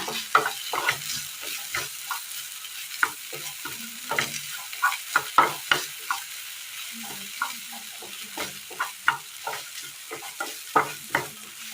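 Tomatoes and curry leaves sizzle steadily in a hot pan on a Kerala stove, with repeated clinks and scrapes of a spoon stirring in an irregular rhythm.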